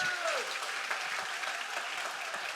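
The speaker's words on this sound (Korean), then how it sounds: "Let's give a big round of applause." An audience at a special lecture in a forest setting claps together, a dense, steady wash of applause that fills the room from start to finish.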